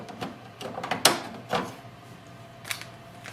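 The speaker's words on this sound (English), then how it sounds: "push it in and you will hear a lock sound" Pink ink cartridge pushed into its slot in an HP DeskJet 4200 printer, giving a few small plastic clicks and taps with one sharper snap near the middle, close up in a quiet room.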